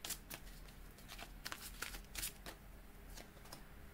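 Tarot cards are shuffled for a reading, giving soft, quiet riffling and slapping bursts in an irregular rhythm, close by with no voice.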